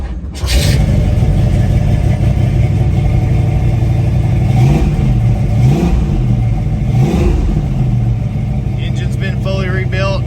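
A 1968 Shelby GT500KR with a rebuilt engine and slightly bigger cam fires up loud and close, then idles with a lumpy rumble, blipping through several sharp revs in a row.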